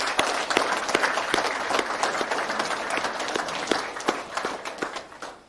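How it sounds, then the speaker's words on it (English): Audience applauding family members at a St Florian's Day award ceremony, a sustained burst of many hands clapping that fills the room before tapering off at the end. "if we could just give a round of applause to family members that happen to be here today"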